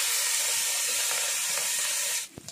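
Small shrimp frying in a pan with turmeric and salt, a steady close hiss and sizzle that cuts off abruptly near the end, leaving a few faint clinks.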